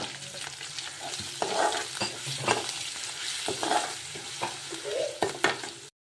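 Tempering of garlic, turmeric, cumin and rock salt sizzles in a pan for ivy gourd chutney, with steady frying hiss and intermittent stirring scrapes close by.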